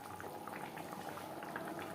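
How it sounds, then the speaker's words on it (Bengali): Jackfruit gravy boils steadily in a pot for a vegetarian curry, a continuous close bubbling and simmering that holds an even level with no talk throughout. "চার 5 মিনিট গ্রেভি বেশ ভালো করে ফুটিয়ে নেব"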